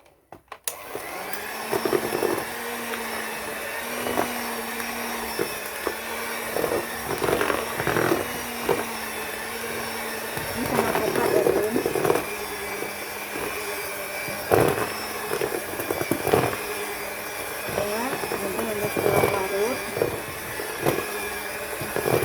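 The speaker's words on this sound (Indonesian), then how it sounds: "ini udah saya campurkan coklatnya dan maizena, kemudian di mixer" An electric hand mixer beats chocolate and cornstarch cookie dough in a bowl, a steady close motor whine running throughout with periodic louder scraping and thumping as the beaters work the thick dough, and no talking.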